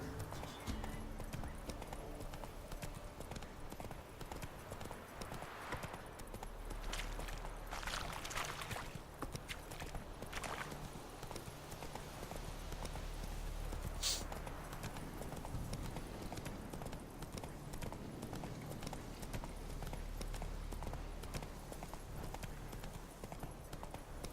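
Horse hooves clip-clop steadily in the video game Witcher 3, a continuous rhythmic patter of galloping under game music and ambience, with a faint voice briefly present.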